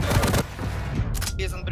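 Rocket launcher blasts in Quake Champions during a 2v2 grand final at DreamHack Tours 2018: a dense, loud burst of firing opens the moment, then scattered game effects and layered noise follow.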